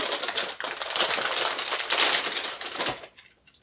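Rigid foam box packaging for an MSI RX 470 graphics card being opened by hand, giving a close run of squeaky, crackly rubbing and tapping for about three seconds before it fades out.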